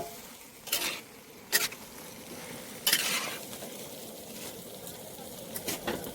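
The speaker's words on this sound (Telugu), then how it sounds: "ఇక్కడైతే చికెన్ ఫ్రై తయారవుతుందండి." Chicken fry cooking in a pan at an outdoor community cooking area, with a soft steady sizzle under several sharp metallic scrapes and clanks of a stirring utensil against the pan, moderately quiet, no talking.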